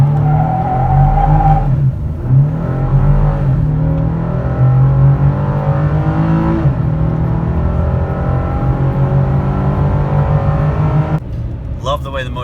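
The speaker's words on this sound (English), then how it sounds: "Love the way the motor sounds." The engine of a 2018 Chevy Colorado ZR2 pickup with about 5,000 miles revs loud and close, a sustained droning roar with rising and falling pitch that continues steadily throughout.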